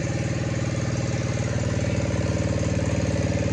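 A snowblower engine runs steadily at a close, loud idle, its low, even chugging pulse holding throughout with a slight rise in intensity toward the end.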